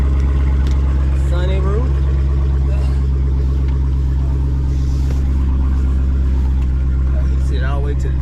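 A Dodge Challenger Hellcat wide-body muscle car idles with a steady deep rumble close by, the engine note continuous while someone talks over it throughout.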